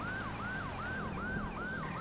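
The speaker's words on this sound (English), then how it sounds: "It is the Wheelan Ellipson siren made by Shots Fired 932." A Whelen Ellipson police siren from GTA 5's LSPDFR mod sweeps up and down in rapid, even cycles about twice per second, loud and close over a low road rumble, with no voices.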